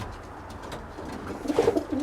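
Cock pigeons make a short, soft burst of throaty cooing near the end of a brief, quiet moment in their loft.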